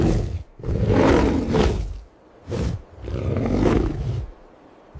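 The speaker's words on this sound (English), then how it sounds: "Bear." A bear roars in a loud sequence of growling bursts, four heavy surges separated by brief pauses, close and harsh.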